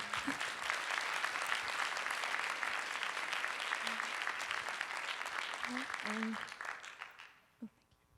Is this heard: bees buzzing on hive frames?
no